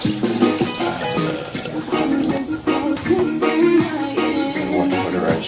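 White rice being rinsed under a running kitchen tap, a steady loud rush of water with splashing and shifting grains in the pot or bowl, no talking over it.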